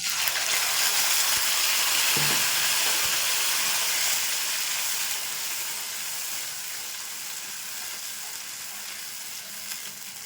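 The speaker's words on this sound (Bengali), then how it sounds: "এই তেলে আমি গোটা মশলাটা দিয়ে দিচ্ছি। পেস্টটা দিয়ে দেবো।" Whole spices and paste sizzling in hot oil left from frying, a loud, bright continuous hiss that eases slightly as it goes, with a faint clink of a utensil near the start.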